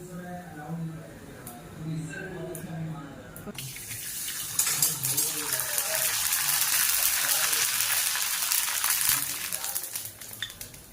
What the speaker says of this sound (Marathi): एकदा तुम्हाला आलू चिप्स धुवून दाखवते हे बघा